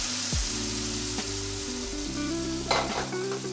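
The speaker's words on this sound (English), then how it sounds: "we're gonna add in our chicken stock" Chicken stock goes into a hot pan of sautéed garlic and shallots, setting off a loud, close sizzle and bubbling with a few clinks of utensil against the pan.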